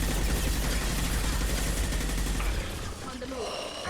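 Rapid gunfire in the Mass Effect 2 video game, dense continuous shots that cut off near the end, with a voice speaking over the combat.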